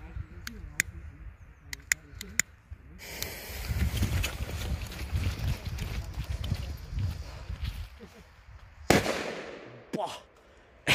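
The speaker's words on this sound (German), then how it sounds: "Und jetzt der Super 2, hoffentlich ohne Schwankung in diesem Böller" A Super 2 firecracker explodes during New Year's Eve celebrations. Scattered clicks and rumbling handling noise lead up to one sharp, loud, close bang near the end, followed by quieter rustling.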